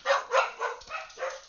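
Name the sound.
dogs barking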